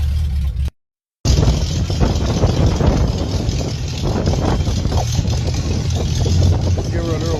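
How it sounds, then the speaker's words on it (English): An engine with a Chinese carburetor idles steadily after a cold start, with a constant mid-range hum and rumble close by and someone talking over it. "Legit cold start."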